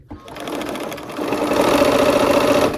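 A sewing machine stitches Peppermint Frost quilt block units together, its motor whirring in one steady, continuous run that builds slightly in intensity, close and alone without talk.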